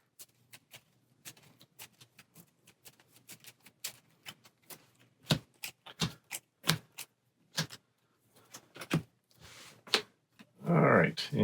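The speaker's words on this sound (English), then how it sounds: "So we'll shuffle these cards up," Game cards shuffled for a Warhammer Quest Cursed City tabletop session, a run of crisp irregular riffling ticks and snaps up close that ends in a denser burst of flutter.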